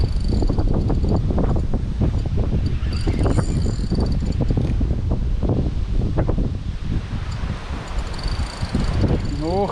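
Strong wind buffets the microphone outdoors at a stormy autumn fishing spot, loud continuous rumbling gusts with someone talking underneath.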